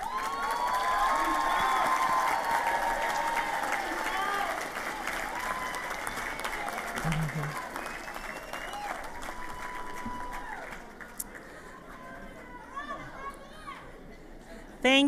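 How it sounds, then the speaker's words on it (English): Sustained applause from a large crowd at a university commencement ceremony, loud at first and gradually thinning, with voices and cheering mixed in. "Please give them a round of applause."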